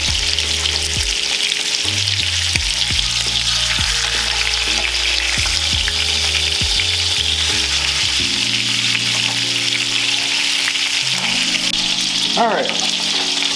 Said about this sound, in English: Sear these bad boys up to a nice and golden brown.